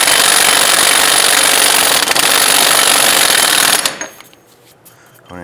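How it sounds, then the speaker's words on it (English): An impact gun snugs the CV axle nut on a 2005-10 Jeep Grand Cherokee. A loud, close, continuous rattling hammer runs for about four seconds, then cuts off, leaving a short mechanical wind-down and quiet shop noise. "I'm just going to use our impact gun here just to snug up this nut."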